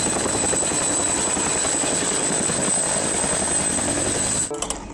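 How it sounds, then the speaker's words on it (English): A helicopter thrums steadily and loudly with a high whine on top, then cuts off abruptly near the end. "Nice helicopter."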